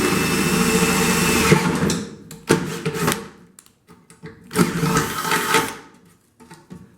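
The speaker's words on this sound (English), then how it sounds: "We'll go ahead and drill this out." A handheld power drill bores out a puck, a loud steady whine for about two seconds, then a series of shorter bursts and stops, close up.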